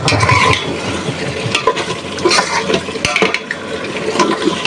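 Buffalo meat and potatoes are sautéed and stirred in a pan, with a steady sizzle, scraping spoon strokes and occasional clinks of utensil on metal, close and loud.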